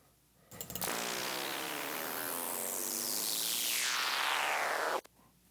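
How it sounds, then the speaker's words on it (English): Noise riser synth effect built from a bass sound run through Arturia Dist Coldfire distortion, a loud, dense wash of noise sweeping upward for about four seconds before cutting off abruptly, with no talking. "So I created a riser, kind of a noise riser, with the bass."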